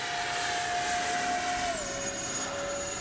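A Freewing F-14A Tomcat RC jet with twin 64mm EDF units flies past, a loud, steady whine with a high tone that dips in pitch as the model passes, running continuously.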